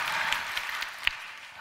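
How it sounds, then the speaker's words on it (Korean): A church prayer-meeting audience gives a short burst of applause, a soft, steady patter of clapping with no voices over it. "박수까지요? 확실히 쳐주세요"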